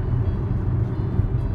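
A Tesla car pulls away by itself on autopilot, giving a quiet, steady low rumble that holds level without any talking.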